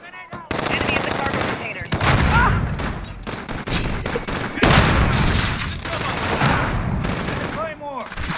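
Sustained automatic gunfire from Modern Warfare gameplay, with dense rapid bursts and booming shots running loud and nearly continuous throughout, while voices shout over the shooting.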